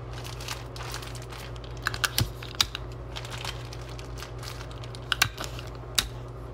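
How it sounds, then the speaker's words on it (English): Tape is pulled, pressed and crinkled down while making a DIY water snake, giving soft close taps and crackles over a low steady hum, no one speaking. "I just tape it down like this and then I keep putting tape on it."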